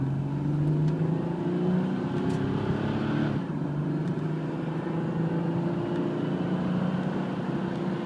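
A 1999 Chevrolet Malibu LS sedan with a 3.1 liter V6 accelerates up to about 55 mph, a steady engine drone rising in pitch with road and wind noise, loud and continuous throughout with no talk.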